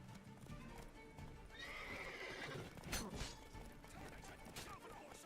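Roach, the horse in The Witcher 3, clip-clopping and whinnying in the game: faint, quick hoofbeats with a neigh, set under a low, busy game soundscape.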